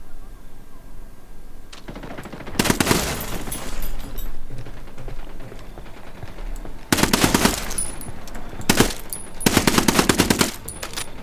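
Gunfire in the video game Ghost Recon Wildlands comes in several loud, close bursts of rapid automatic fire separated by quieter stretches, with a low rumble underneath.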